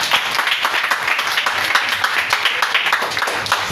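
A seminar congregation claps steadily for the whole stretch, a dense, continuous patter of many hands close by with no voices standing out.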